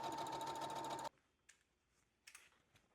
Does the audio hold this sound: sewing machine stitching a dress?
yes